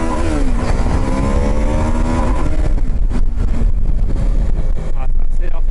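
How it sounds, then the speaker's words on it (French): A KTM 790 Adventure motorcycle accelerates hard, its engine note climbing through the revs under heavy wind buffeting on the rider's microphone. "Petite accélération."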